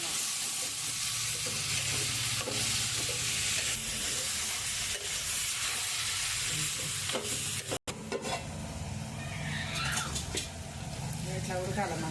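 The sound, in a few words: tomatoes cooking in pan for curry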